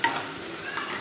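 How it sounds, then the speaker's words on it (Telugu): Chillies being stirred in hot oil with onions in a pan, a steady close sizzle of frying with light scraping of the spoon, no voices over it. "చిల్లీస్ వేసుకుని ఒకసారి తిప్పేసుకోవాలి"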